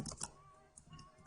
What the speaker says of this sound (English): I'm going to type